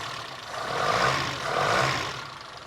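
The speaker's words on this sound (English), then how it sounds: "Old tractor engine sounds pretty good." The engine of an old 1973 Toyota Hilux runs close by, a rough, roaring drone that swells twice in slow rises and falls, like gentle revving with no voices present.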